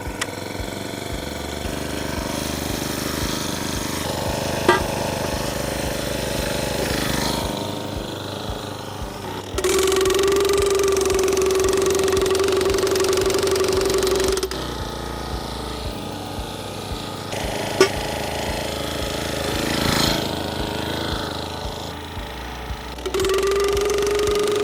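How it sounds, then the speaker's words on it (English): A Honda-powered Crommelins fence post driver engine runs steadily close by, a mid-pitched mechanical hum that shifts in tone several times as the load changes, with a couple of sharp clanks. "This machine will drive into the ground up to an 82mm post down to a standard star picket"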